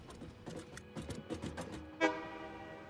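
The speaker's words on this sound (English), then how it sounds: "Come on, Mr. Train, do your honk." A train horn sounds in the video game Satisfactory, one loud toot after a run of rhythmic clanking train noises, fairly close.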